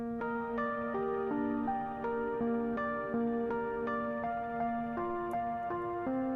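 Rhodes electric piano notes ring through an Eventide UltraTap delay on its default patch, each soft chord and single note followed by rhythmic repeating echoes that stack into a shimmering, steady pulse.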